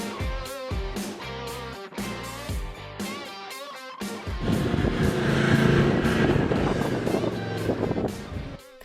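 A heavy 6x6 vehicle climbs the Big Red sand dune in the Simpson Desert, its engine working hard and rising to a loud, sustained roar with gusty wind noise throughout.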